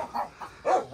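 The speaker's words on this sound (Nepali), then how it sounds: "डेन्जर कुकुर रहेछ।" A dog barks in a few short, sharp bursts along a village trail during a hike, fairly close and with no talk.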